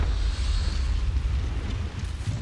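A fiery Confringo blast spell from Hogwarts Legacy, a brief roaring whoosh with rumbling low end and a hissing burst, loud and close, fading slightly toward the end.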